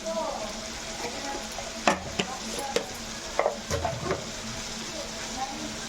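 Poppy seeds sizzle and crackle steadily in a hot pan, with a few sharp clicks of a utensil stirring against the metal.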